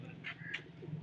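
A Waishi pigeon gives a brief, soft coo close by, two short throaty notes against faint background noise.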